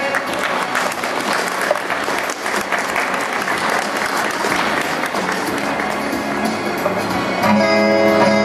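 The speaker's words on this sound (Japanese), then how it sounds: "拍手でお迎えください。" An audience applauds to welcome a ninth-grade student speaker from Yokosuka at an iias Tsukuba talk event, steady dense clapping filling the room throughout with a slight swell near the end.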